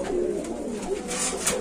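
Pigeons coo softly and continuously at a pigeon market where birds are sold with eggs and chicks, a low murmuring chorus with no clear talk.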